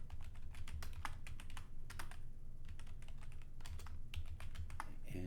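Steady typing on a computer keyboard while building a recipe entry in restaurant software, with rapid irregular key clicks in bursts and brief pauses, close and moderately loud, no talk.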